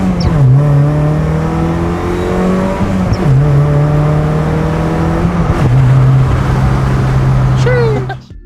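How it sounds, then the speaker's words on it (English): A Mazda Miata fitted with a new short shifter drives along, its engine revving up through the gears in repeated rising pulls with brief dips at each shift, loud and close from inside the car. "So we're taking it for a drive to make sure it's all fixed and have Riley's first impressions"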